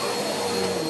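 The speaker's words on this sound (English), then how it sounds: "don't mind the vacuum in the back." Steady drone of a household vacuum cleaner running nearby in a room, an unbroken whirring hum at constant level.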